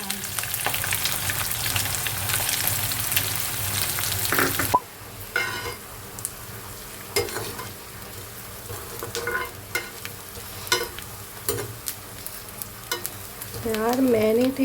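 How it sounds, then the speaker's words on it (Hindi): Fennel seeds, green chili and onion fry and get stirred in a home kitchen pan: a steady close sizzle with scraping stirs, a sharp drop after a few seconds, then quieter crackling with intermittent clicks. "ये ना सौंफ डाला है, जीरा मत समझ लेना। हरी मिर्ची और ये प्याज।"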